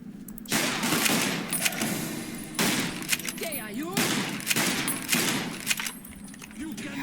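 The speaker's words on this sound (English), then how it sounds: "How did all those shots miss?" Gunfire in the video game Fallout New Vegas comes as several sharp bursts of rapid shots spaced a second or so apart, moderately loud, with someone talking in between and over them.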